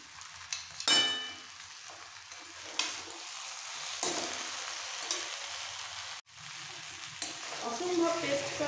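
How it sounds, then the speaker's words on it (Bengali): Labra, a mixed vegetable curry, being stirred in a hot pan, with a steady sizzle broken by several louder scraping clanks of the spoon, clear and close. "ভালো করে একটুখানি মিক্স করে ফেলতে হবে"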